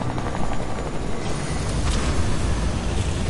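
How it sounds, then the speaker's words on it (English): Helicopter in a video game, a steady loud rotor and engine drone that runs without a break, with no voices over it. "take the helicopters and the drift. I'm taking the helicopter."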